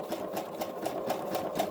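A sewing machine stitches through mixed paper and cloth with a steady, close mechanical whir and a regular rapid pulse of needle strokes, with no talking.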